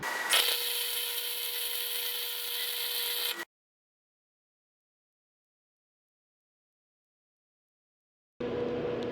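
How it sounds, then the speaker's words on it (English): Flux-core welding on a skid steer wheel seal gives a loud, steady crackling hiss for about three seconds, then cuts to silence before a second burst starts near the end. "Weld her up, pop her out."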